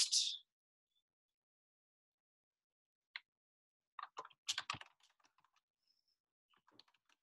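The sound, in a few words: typing on a computer keyboard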